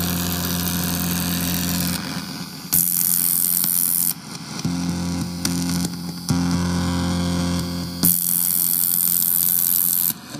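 A pre-patched modular synthesizer puts out steady electronic static and hum, with low droning tones and bursts of bright hiss that switch on and off several times as parameters change, loud and continuous with no talking.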